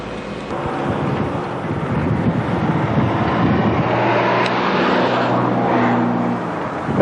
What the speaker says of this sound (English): When the cars and trucks are not passing by the quarry here,